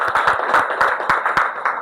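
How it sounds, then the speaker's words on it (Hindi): Audience clapping at an award ceremony honouring a student's JEE success: a short, loud burst of hand claps in uneven rhythm, close and clear, with bright sharp slaps over a dense ringing background. "जोरदार तालियां सभी के द्वारा।"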